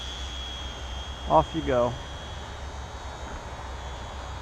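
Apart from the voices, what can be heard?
HobbyZone Champ RC airplane motor at launch and climb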